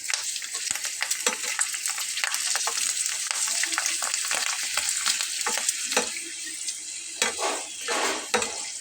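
Crispy potato laccha pakoda frying in hot oil, a continuous loud sizzle and crackle with occasional clinks of a utensil stirring in the pan throughout.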